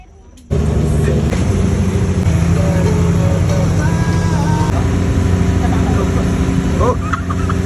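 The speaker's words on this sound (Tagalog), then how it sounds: "Nakasakay na kami dito sa bangka." A motorboat engine drones steadily and loudly on a boat ride out to Isla Verde, a continuous low rumble that starts abruptly and holds throughout, with voices faintly audible over it.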